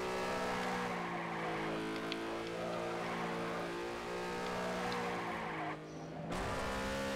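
A car drifting in the video game Jet Car Stunts, with a loud steady engine drone and a continuous tire squeal as it slides, which cuts out briefly near the end before returning.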